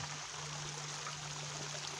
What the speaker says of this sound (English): the water channels in down the canal feeder, feeds the entire system with water, and then overflows through here